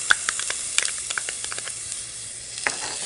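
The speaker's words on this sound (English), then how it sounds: "I saute it until the onions are soft but not yet brown." Onions and garlic sauté in a pan as bacon mushroom mac and cheese is prepared, giving a steady soft sizzle with scattered crackles and a few stirring taps, fairly quiet and close, with no talking.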